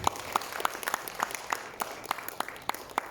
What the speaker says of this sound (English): I beg that we clap for each and every one